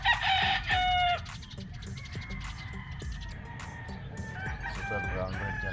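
A gamefowl rooster on a game farm crows loudly and close at the start. Clucks and more distant crowing from other birds follow over a busy farmyard background.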